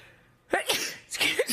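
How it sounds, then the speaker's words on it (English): A person sneezes close by, a sudden explosive burst followed a moment later by a second breathy burst, in an otherwise quiet indoor room. "I've never seen you sneeze on TV in my life."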